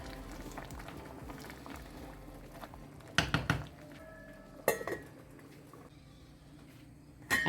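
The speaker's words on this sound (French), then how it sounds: "J'ai porté ça à ébullition." Vegetables and potatoes simmering in a salted pot of water, a low steady bubbling bed broken by a few sharp clinks and knocks of a pot or utensil, with no talking.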